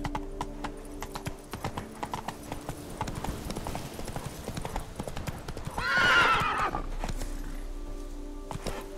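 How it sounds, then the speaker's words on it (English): Roach, the horse in The Witcher 3, clops along steadily in a rhythmic hoofbeat with a loud whinny partway through, under game background sound. "That's it, Roach."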